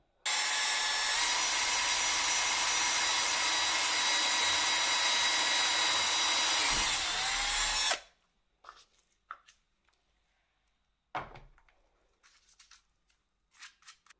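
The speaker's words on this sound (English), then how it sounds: "Always have a block of wood too under your lid just to protect whatever surface you're drilling on." A power drill whirs loudly and steadily for several seconds drilling a plastic lid over a block of wood, then cuts off, followed by quiet scraping and a few light knocks.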